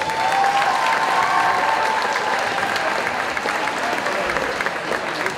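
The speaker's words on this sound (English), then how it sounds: "Please give another round of applause for all of our candidates." At a homecoming night event, a crowd gives steady, dense applause for the homecoming candidates. Faint voices and cheers blend into the clapping throughout.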